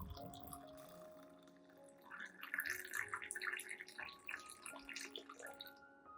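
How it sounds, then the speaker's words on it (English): Hot water, about 500 millilitres, is poured from above into a glass cup holding oats, a faint splashing trickle that rises and fills steadily for a few seconds with a light ringing tone before easing off. "pour about 500 milliliters of hot water into the cup to mix with the oats"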